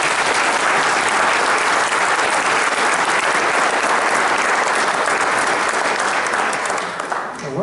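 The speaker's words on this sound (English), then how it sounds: "Please give him a round of applause." At an announcement event for the International Dark Sky Discovery Center, a large audience applauds for Greg, with loud, dense, sustained clapping that continues evenly and thins slightly near the end.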